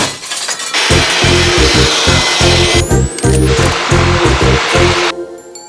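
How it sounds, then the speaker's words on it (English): A small Ryobi ONE+ battery-powered mini leaf blower whirs steadily at close range, its motor tone rising and falling with a choppy, pulsing rhythm over several seconds. "World's smallest leaf blower."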